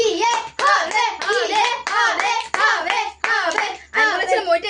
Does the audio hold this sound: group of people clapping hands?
yes